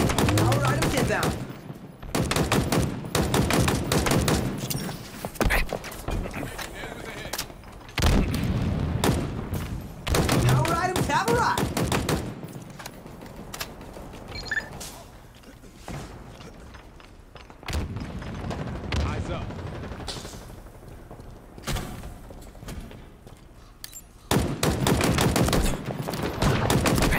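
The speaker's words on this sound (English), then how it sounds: "Grenades" Gunfire and grenade explosions in a Halo multiplayer match, repeated loud bursts of shots and heavy booms that come in dense clusters with quieter gaps between them, with players talking now and then.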